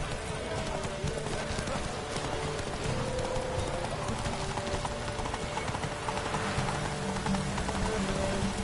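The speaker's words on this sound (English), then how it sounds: "Whoa there, Roach" Horse hooves clip-clop steadily in The Witcher video game, with a dense, continuous clatter under a rain-like wash of ambient noise and other game sounds.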